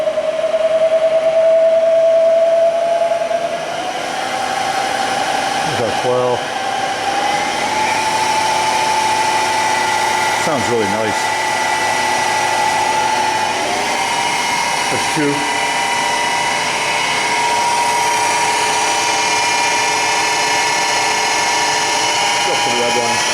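A Bridgeport Series I CNC vertical knee mill spindle runs with a steady whine that steps up in pitch as speed changes, while someone talks over it now and then.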